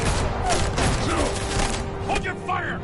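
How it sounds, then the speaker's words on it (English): Rapid gunfire crackles in The Batman Telltale Series, a dense fusillade of shots with mechanical clatter running continuously, with some talk mixed in. "Why do they shoot at me?"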